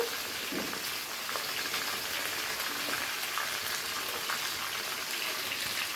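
Vegetables, including broad beans, radish and spring onion stalks, sizzle steadily in a hot pan while being stirred, a dense, even crackle with no talk.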